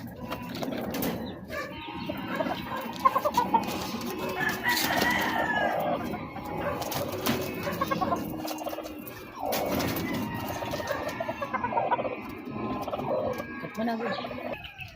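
Gamefowl chickens in a breeding pen cluck, crow and squawk almost continuously at close to middle distance, with someone talking over the birds.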